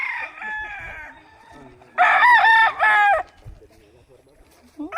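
At a gamefarm, a nearby rooster crows loudly once in a long rising call, with fainter bird calls and quiet background sounds before and after.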